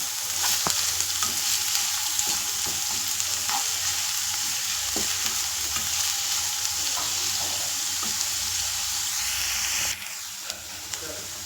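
Onions fry steadily in a pan, a continuous close sizzle with occasional stirring scrapes and pops throughout, no voices.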